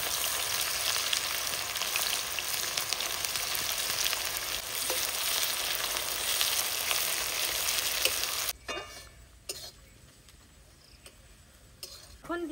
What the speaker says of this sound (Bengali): এখন দিয়ে দিচ্ছি পেঁয়াজ, সুন্দর লাল লাল করে ভেজে নেব পেঁয়াজটা।